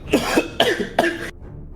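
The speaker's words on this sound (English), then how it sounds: "I start coughing" Three sharp coughs in quick succession, close and fairly loud, followed by a quiet pause.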